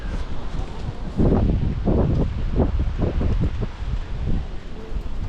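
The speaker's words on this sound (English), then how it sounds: "It's kind of windy." Gusty wind buffets an open-air spot in an autumn city street, rushing in uneven surges with rustling, steady and close, with no talk over it.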